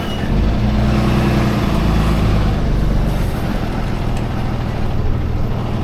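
A truck engine idles and runs steadily with a deep, continuous low rumble, close and loud throughout with no talking.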